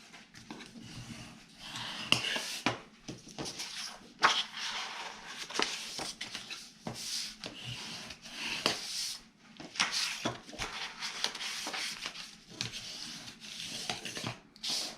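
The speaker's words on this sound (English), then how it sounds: "Now let's fold and burnish all of those scores." Scored paper for gift bags is folded and burnished by hand, giving soft, intermittent rubbing and scraping strokes with light creases and taps, close and fairly quiet, with no talking.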